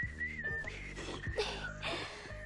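A man whistles a wavering, tuneful line in a comedy film scene, clear and close, with a few faint background knocks and no talk during the whistle.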